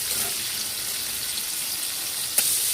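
Tomatoes with salt fry in a pan for aloo dum. A steady close sizzle hisses without a break, and a single small clack of the stirring spoon sounds near the end.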